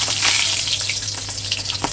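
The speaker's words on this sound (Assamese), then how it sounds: "এতিয়া মই তেলত দিম জলকীয়া" Split green chillies frying in hot oil, a close, continuous crackling sizzle with a few sharper pops, steady and fairly loud, with no voices over it.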